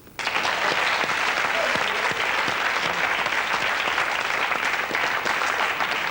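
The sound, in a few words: studio audience applause on a TV game show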